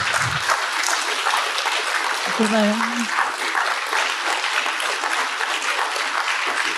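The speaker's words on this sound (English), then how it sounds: "So I would love for you to give him another round of applause as I hand him this certificate." A large conference audience gives sustained applause at an ASA 2023 gathering as a certificate is handed over, a broad steady wash of clapping with a brief voice in the middle.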